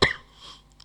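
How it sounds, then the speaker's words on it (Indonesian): A single short, sharp cough bursts out close to the microphone at the very start, followed by a faint breath and near silence. "lagi batuk soalnya."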